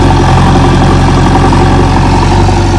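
A JCB backhoe loader works on a village farm plot, its engine droning loudly and continuously at close range with a deep, even rumble.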